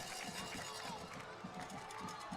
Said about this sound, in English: This crowd making all kind of noise